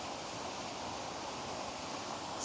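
Aira Force, a natural waterfall in the Lake District, gives off a steady, even roar of falling water, heard from some distance as broadband rushing noise with no talking.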